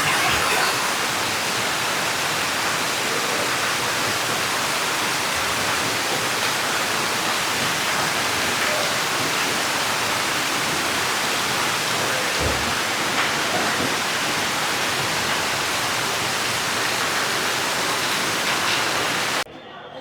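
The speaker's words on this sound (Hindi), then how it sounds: "देखो बारिश का रूप, बड़ी जबरदस्त बारिश हो रही है, बहुत तेज।" A very heavy downpour of rain, a dense, loud, unbroken roar that holds steady throughout, then cuts off abruptly at the very end. There is no talking over it.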